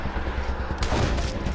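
Gunshots in the Wasteland 2 video game, a short burst of loud repeated firing with a heavier blast near the end, no voices.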